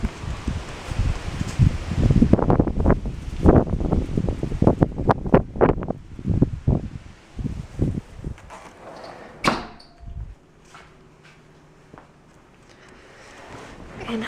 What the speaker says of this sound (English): It is just crazy windy out today